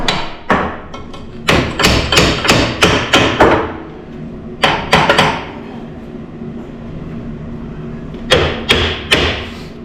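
Hammer tapping to line up a C-30 crew cab, in quick bursts of sharp metallic knocks, several in a row, then pauses, close and loud.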